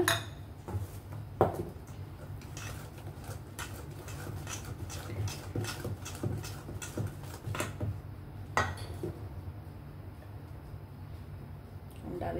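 Ragi (finger millet) flour being stirred into brownie batter in a bowl, giving soft scraping and occasional clinks of utensil against the bowl, close and fairly quiet, with a steady low background hum throughout.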